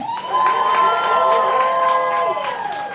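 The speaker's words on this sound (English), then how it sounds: "those of you who have been here before, make some noise, please." Returning audience members at a live poetry event cheer and shout in a loud, sustained crowd roar with high whoops and a few claps, holding steady before tapering slightly.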